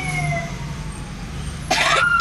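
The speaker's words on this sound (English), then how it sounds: "We got the ambulance pulling up." Ambulance siren arriving at a car crash scene on Citrus Ave and Foothill Blvd in Fontana, a wailing tone over street noise that turns sharply louder near the end.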